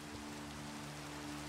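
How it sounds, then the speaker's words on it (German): Heavy rain pours in Minecraft as a continuous, even wash of dense hiss, steady and loud throughout with no voices over it. "Es regnet wie aus Eimern."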